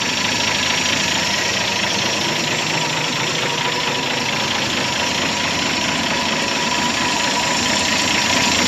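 A fuel pump running on a 1949 Chevrolet Advance Design truck, heard as a loud, steady mechanical whir and buzz with a constant hum, unbroken and close, with no talk.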